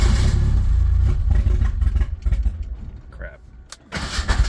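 A Ford Ranger engine cranks and runs after a repair that blocked off its EGR valve, giving a loud, rough low rumble that eases off midway and then swells again, with one short spoken word.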